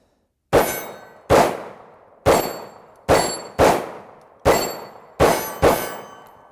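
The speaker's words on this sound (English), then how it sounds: "just so you guys kind of have an idea on how far we're shooting at these steel targets" Eight sharp metallic clangs from Hi-Point C9 pistol rounds striking steel targets about 12 to 15 yards away, each ringing briefly before fading, spaced irregularly under half a second to a second apart, with no talking.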